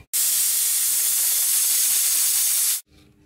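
A pressure cooker with chickpeas inside vents steam in one loud, steady hiss lasting nearly three seconds, starting abruptly and cutting off sharply before a quiet tail.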